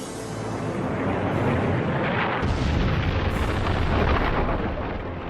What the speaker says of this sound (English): What happens is you get a huge explosion